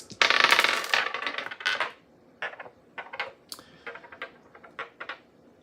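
Dice rolled during a tarot reading, a loud initial clatter followed by a string of lighter, scattered clicks and taps that settle over about four seconds.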